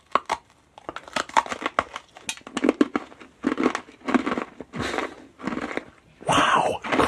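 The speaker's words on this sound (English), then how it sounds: "Crikey, those are crunchy." Crunchy lychee crystal candy is bitten and chewed right up at the mouth, giving a rapid series of loud, sharp, brittle crunches with brief pauses between bites.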